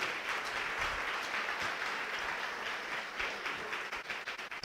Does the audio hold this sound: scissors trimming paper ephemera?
no